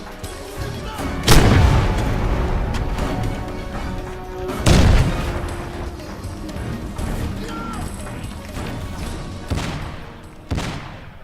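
Grenades explode in the video game Crysis, with two heavy booming blasts close together, then fainter rumbling and further thuds as combat noise continues in the background.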